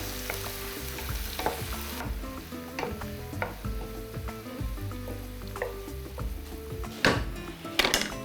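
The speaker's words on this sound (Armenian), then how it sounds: "Կարակը նաև կօգնի, որ սունկը լավ կարմրի։" Steady sizzling of mushrooms frying in butter, with occasional scrapes and knocks of a utensil stirring the pan, close and continuous.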